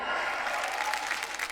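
A studio audience on a television singing show claps, a brief dense burst of applause from many hands, moderately quiet and even.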